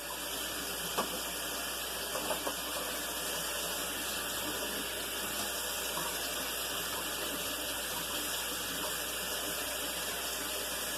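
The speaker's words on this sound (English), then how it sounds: "I'll run them all under the water like this and rinse the solution out of them" Tap water runs steadily over long-neck rifle cartridge cases as they are rinsed of cleaning solution, a constant close hiss and splash with a few faint clinks of brass.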